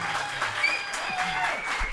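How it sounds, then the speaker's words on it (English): Brief burst of live audience clapping at a podcast taping at the Red Bull Gaming Sphere in Stockholm, a short wash of crowd applause with a faint voice underneath. "People clapping for me, you know?"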